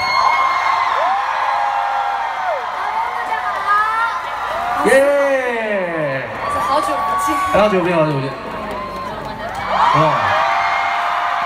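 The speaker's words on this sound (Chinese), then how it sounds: "尖叫声可能要大声一点" A concert crowd in Kuala Lumpur shouts and whoops in rising bursts, several loud screams swelling around the middle, while a host speaks briefly over the noise.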